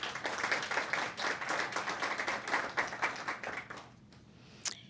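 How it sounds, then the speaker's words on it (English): Audience applause at a chamber of commerce meeting, dense individual claps building then tapering off near the end, followed by near quiet and a brief sharp sound. "let's all give them a big round of applause."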